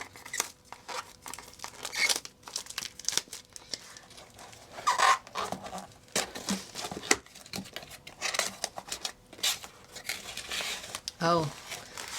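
Scissors snip and plastic packaging crinkles in bursts of irregular crackles and rustles, close and fairly quiet.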